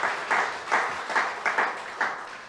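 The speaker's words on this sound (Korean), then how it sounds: "하나님께 영광의 박수 드리고" A church congregation at a Korean Sunday afternoon service clapping together in a steady rhythmic beat, about half a dozen even claps, loud and close with no speech over it.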